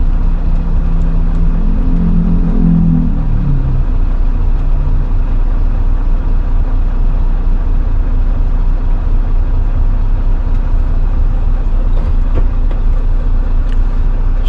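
Constant low rumble of idling cars and buses stuck in a traffic jam on a road in Indonesia, a steady engine drone with no break, and a brief heavier engine swell near the start.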